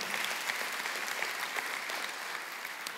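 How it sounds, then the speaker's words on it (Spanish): Steady applause from a church congregation during a sermon, many hands clapping continuously at an even level throughout, with no voices standing out. "dale un fuerte aplauso al Señor"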